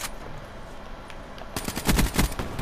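Rapid automatic fire from a KN-44 rifle in Call of Duty Black Ops 3, a dense burst of close, loud shots in the second half after a few scattered earlier reports.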